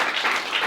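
A church congregation at a worship service applauds their pastor, a dense burst of clapping from many hands that runs steadily through the whole brief moment.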